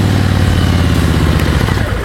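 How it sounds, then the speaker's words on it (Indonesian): An RG motorcycle engine, started the older way, runs loud and close for about two seconds with a steady, slightly rough mid-low roar and no voices. "Itu cara ngidupin motor yang lama."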